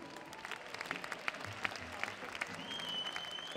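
Audience applause at a live folk music concert, a steady wash of clapping with sharp individual claps standing out, moderately loud and continuous throughout, with a faint whistle-like tone entering near the end.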